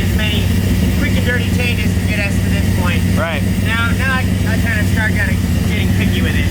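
An LS3 V8 swapped into a Nissan 350Z fitted with a tuner exhaust idles with a steady, loud low rumble, with people talking over the engine throughout.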